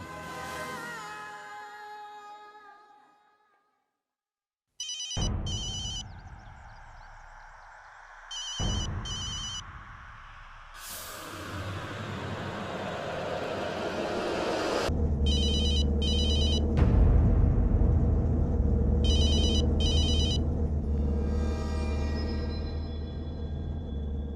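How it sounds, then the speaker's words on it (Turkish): A telephone rings repeatedly in a Turkish TV drama scene, sounding in bursts of doubled trills that alternate with loud dramatic music and whooshing effects. "Samrat, al telefonu Rudra'ya ara"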